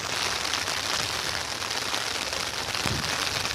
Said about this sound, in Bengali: শুধু বৃষ্টি হয়ে যাচ্ছে